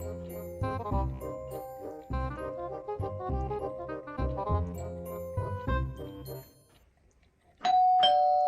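A household doorbell chimes loud and clear near the end, a bright ding-dong that breaks in after a stretch of soft melodic music fades away.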